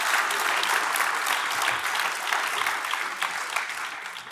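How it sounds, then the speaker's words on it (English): Sustained audience applause fills an awards ceremony hall, a dense, steady wash of many hands clapping close and loud throughout, with no break or voice on top. "So please give yourselves a big round of applause."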